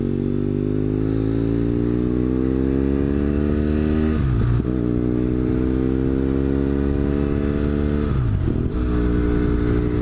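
Motorcycle engine fitted with a Two Brothers aftermarket exhaust, a loud steady throb with two brief dips in revs, heard up close and alone with no talk.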